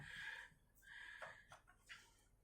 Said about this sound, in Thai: ขออภัยสำหรับเสียงไก่ขันนะคะ